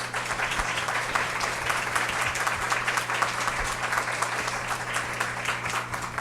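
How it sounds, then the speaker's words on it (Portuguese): Warm, sustained applause from an audience at a legal debate on international human rights protection honors the panel, an even wash of many clapping hands over a low steady hum, lasting several seconds with no talk. "solicitar uma calorosa salva de palmas para essa brilhante banca aqui que tivemos aqui"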